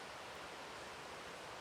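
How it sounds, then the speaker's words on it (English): A creek flows far below a hillside vantage point, a steady soft wash of water rushing without a break, faint and distant, with no voices. "There's the creek down there."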